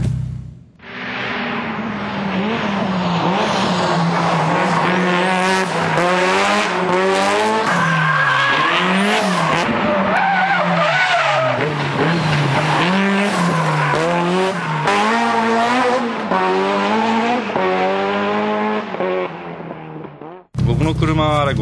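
A 550 hp front-engine rear-drive race car skidding on ADVAN Neova tyres, a loud sustained engine roar with shifting pitch and tyre squeal that runs for about twenty seconds before stopping abruptly.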